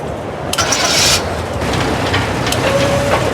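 A crane's engine starts up in the video game Memento Mori 2, with a loud burst of cranking that catches into a rough, steady running rumble.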